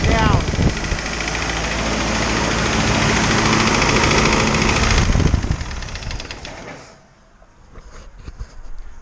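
A 4BD2T diesel engine runs loud and close with a rough, knocking idle, then shuts down around the midpoint and winds to near silence, with a few faint clicks and rattles afterward.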